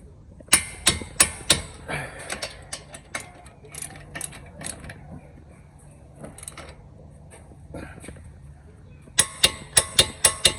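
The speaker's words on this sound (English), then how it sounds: "I'm gonna torque at 77 foot-pounds." A torque wrench ratchets in quick bursts of sharp clicks while bolts on the front brakes of a Toyota Sienna 3.5 are tightened to 77 foot-pounds, loud and close, with quieter handling noises between the bursts.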